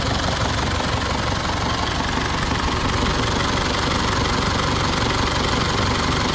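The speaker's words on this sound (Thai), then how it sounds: "เบื้องต้นก็จะทำการสตาร์ทเครื่องให้ดูก่อนคันนี้" An Isuzu D-Max pickup truck diesel engine idles loudly and steadily, a constant close rumble with a dense rattling texture and no other sounds.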